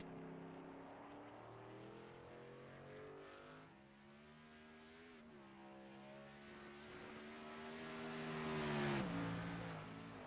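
A race truck from the Sportsman Legacy Trucks Series at Portland International Raceway pulls out of the pits warming its tires, its engine droning steadily with shifting pitch that swells as it accelerates toward the end.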